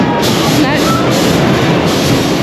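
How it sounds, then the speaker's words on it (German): A wooden roller coaster train rolls loudly into the final brake run at the station, a continuous dense rumble with rattling and hiss that holds steady for the whole moment, heard up close. "wenn der Zug hier bei Süms oder Zeus in die Schlussbremse kommt, dann"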